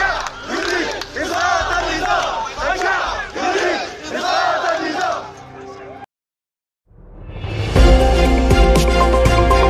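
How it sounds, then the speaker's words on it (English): A large protest crowd chants Arab Spring–era slogans in loud, rhythmic bursts of massed voices, then breaks off into sudden silence before a different, unrelated sound takes over. "Crowds chanted slogans from the Arab Spring revolutions of"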